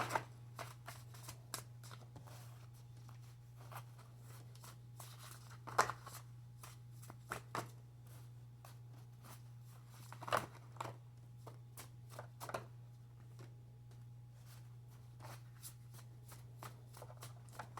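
A deck of playing cards is shuffled again and again, with crisp riffling bursts and soft snaps coming in irregular clusters over a steady low hum. No one speaks.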